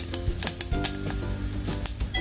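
Cumin seeds crackle and pop in hot ghee in a pan for a split dal tempering, a steady close sizzle broken by sharp scattered spits and a few brighter snaps.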